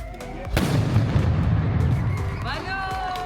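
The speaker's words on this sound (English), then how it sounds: "Cannons were fired in tribute to the three countries, a tribute to the independence of Lithuania, Latvia and Estonia." A cannon fires in tribute to the independence of Lithuania, Latvia and Estonia at a Baltic Way commemoration, one sharp loud boom followed by a long rumbling decay, with faint tonal sounds afterward.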